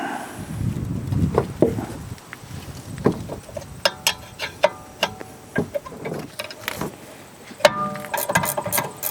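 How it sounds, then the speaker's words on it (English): A ratcheting wrench loosens the 17mm rear brake caliper bracket bolts on a 2013-2017 Honda Accord, giving scattered close metallic clicks and ticks in uneven bursts amid some shop handling noise. "It can help if you have a ratcheting wrench."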